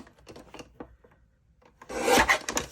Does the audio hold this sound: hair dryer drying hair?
no